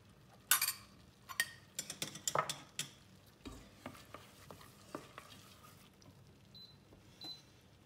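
Butter being stirred into lentil and white asparagus risotto in a pot, with a series of clicking spoon strikes against the pot and soft stirring, fairly quiet and close, tapering off toward the end.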